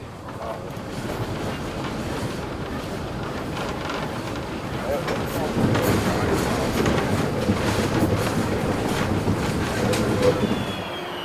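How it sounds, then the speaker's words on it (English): An Achensee Railway train in Tirol, Austria, hauled by a steam locomotive, rolling along with a continuous rumble and rattle of wagons that swells louder midway, close and dense, with wind buffeting the microphone. "The locomotive stays in front of the train for the entire journey back to Jenbach."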